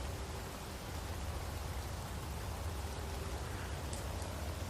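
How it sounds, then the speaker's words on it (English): Rain falls in the Space Engineers video game on PS5 late in the evening, a steady dense hiss of rainfall holding at constant loudness throughout, with a low rumble beneath and no talking. "it doesn't help because it's raining and it's late in the evening"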